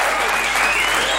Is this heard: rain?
no